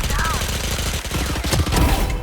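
Rapid gunfire from enemies shooting in the tactical shooter Valorant, a close burst of shots lasting about two seconds, with game sounds mixed in.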